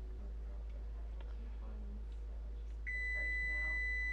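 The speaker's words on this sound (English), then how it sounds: "Shut that timer off." Kitchen timer going off after four minutes of cooking shrimp, a steady electronic beep starting near the end over a low hum and faint kitchen noises, no speech.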